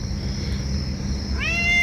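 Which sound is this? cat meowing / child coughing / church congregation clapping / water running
cat meowing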